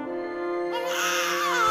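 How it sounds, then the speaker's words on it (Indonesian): A newborn baby cries at night, a single rising wail that swells louder and sharper before cutting off, heard alone and close. "Suara tangisan pertama menembus udara malam"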